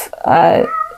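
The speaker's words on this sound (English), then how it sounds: "So if you hear my cat meowing, sorry, I have the door closed and he wants in." A pet cat meows from behind a closed door, one drawn-out, mid-pitched cry that swells and fades over about half a second, sounding fairly close and clear, with a fainter trailing tone after it.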